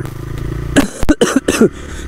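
A few sharp, harsh coughs from a rider with a cold burst out close by over a steady TVS Raider 125 motorcycle engine hum.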